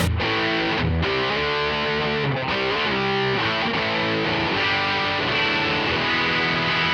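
Heavily distorted electric guitar through a NUX amp modeller's Vibrolux model with gain turned up and an RC boost, playing loud, sustained chords and riffs, thick and saturated, with no one speaking.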